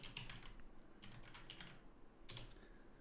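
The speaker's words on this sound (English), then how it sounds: "I'm typing it into chat real quick here." Rapid clicking of fingers typing on a computer keyboard, close and fairly quiet, in uneven bursts with short pauses and no talking.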